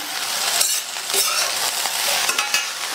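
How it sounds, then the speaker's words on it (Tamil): Vegetables for a South Indian poriyal stirred and sautéed in a hot pan, a steady broadband sizzle with repeated scraping stir strokes and occasional light clinks, close and fairly loud, no talking. "அடுத்து நம்ம இதை இந்த மாதிரி பெரட்டி விட்டு வதக்கிக்கலாம்."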